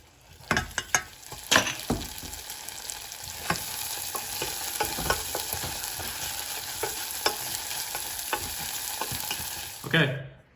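Onions frying and caramelizing in a pan, with a steady sizzle broken by sharp clatters and scrapes of stirring throughout and a louder burst near the end.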